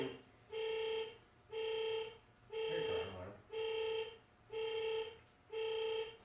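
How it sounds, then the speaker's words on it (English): A car alarm goes off nearby outdoors, sounding six even, steady electronic tones about a second each, separated by short gaps. "Somebody's car alarm went off."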